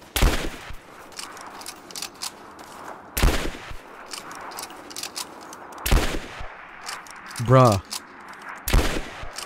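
Gunfire in Rise of the Tomb Raider comes as four sharp, loud single shots spaced a few seconds apart, with a voice briefly talking in between.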